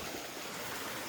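A stream of flowing water runs beside a small rice paddy, giving a steady, faint broadband rush with no talk.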